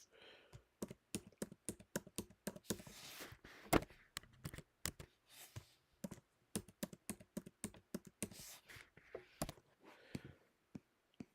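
A password being typed on a computer keyboard: quick, crisp key clicks in uneven bursts with short pauses, close and clear, with no voices.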